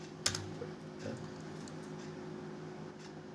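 Quiet, steady typing on a computer keyboard, a brief run of light key clicks with one sharper tap near the start and no voices.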